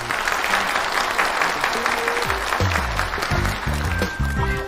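Audience applause at a mobile phone product presentation, a dense burst of clapping from a crowd that carries on as music begins partway through.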